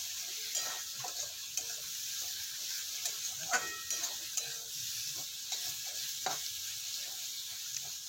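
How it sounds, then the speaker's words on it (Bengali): Crumbled eggs and onion sizzle in a pan as a constant high hiss, while a spatula scrapes and taps the pan at irregular intervals. No one speaks. "এবারে সমস্ত ডিমগুলোকে এরকম ঝুড়ো ঝুড়ো করে নিচ্ছি, নিয়ে পেঁয়াজের সঙ্গে একই রকমভাবে আরও 1 মিনিট ভেজে নেব।"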